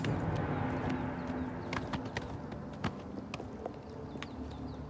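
Rapid hoofbeats of a galloping horse in The Elder Scrolls IV: Oblivion, crisp clip-clops scattered over a continuous low ambient bed, fairly close and steady, with no voices.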